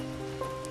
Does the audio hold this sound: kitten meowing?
no